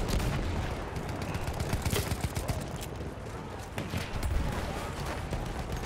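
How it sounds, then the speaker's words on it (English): Mortar shells landing amid gunfire in Battlefield 1, a dense, continuous barrage of booms and shots running throughout at steady loudness, with a voice faintly in the mix. "Ah, mortars."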